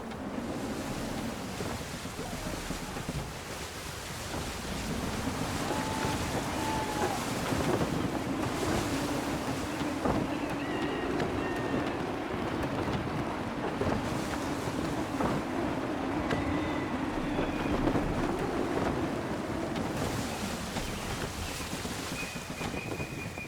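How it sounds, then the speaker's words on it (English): A sailing ship moves through gusty wind and surf in Assassin's Creed 3, with a steady loud wash of waves and wind, creaking timbers and faint tonal whistles over the top throughout. "Full sail! Go get that wind! Wind looks to be shifting."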